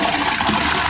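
A toilet flushes with harvested rainwater, a steady loud rush of water pouring through the bowl for the whole second, close up with no talking.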